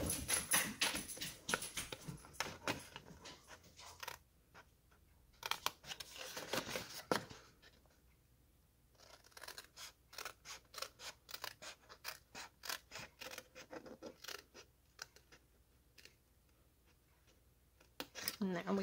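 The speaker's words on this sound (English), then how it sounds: "you're going to cut down the middle on all the score lines on the side that doesn't have the tab" Scissors snipping through cardstock along score lines for a pop-up card in a box, heard as repeated close, crisp cuts in bursts with quiet gaps between them.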